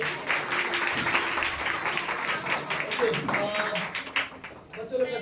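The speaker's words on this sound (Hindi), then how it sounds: "हम लोग यही ताली बजा सकते हैं इनके लिए।" An audience claps after a couples' song at a Christmas gathering, a sustained patter of many hands at moderate distance that thins and turns uneven near the end, with some voices mixed in.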